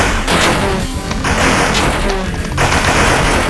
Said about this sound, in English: So many bullets flying.